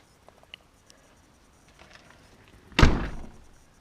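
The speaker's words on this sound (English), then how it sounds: "now when I close my door, the whole wall moves" A newly installed garage door swings shut with one loud, solid thud, preceded by faint scattered creaks and rattles and followed by a brief shuddering decay as the wall moves.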